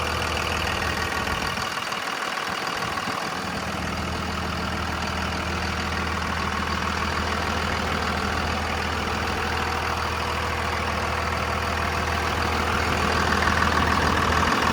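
A Dodge Ram 2500 with a 5.9 engine runs steadily at idle, a continuous low, even drone held close and loud throughout with no voices.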